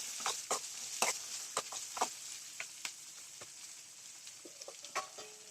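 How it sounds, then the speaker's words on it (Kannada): Cauliflower for gobi curry fries in a little oil in a pan, with a soft steady sizzle broken by sharp crackles and spatters at irregular intervals, close and fairly quiet. "ಅದು ಸ್ವಲ್ಪ ಎಣ್ಣೆಯಲ್ಲಿ ಬೇಯೋ ರೀತಿ ಫ್ರೈ ಮಾಡ್ಕೊಳ್ಳಿ"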